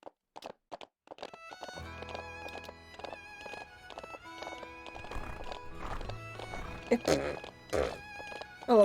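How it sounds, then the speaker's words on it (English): Video game horse giving several short whinnies and neighs alongside clip-clopping hooves and small game chimes, with a person talking over the sounds throughout. "I love doing the horse noises."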